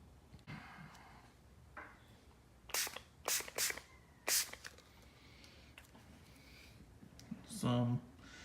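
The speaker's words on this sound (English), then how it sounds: "I'm gonna spray it on, let it sit for about 1 minute." Several short, sharp sprays of bug-removal cleaner from a pump bottle onto a 2016 Ford Fusion, a few quick bursts in a row with soft handling noises between them.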